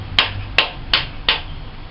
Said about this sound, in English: Use a rubber mallet. Don't use a steel hammer, because all you're going to do is destroy your socket.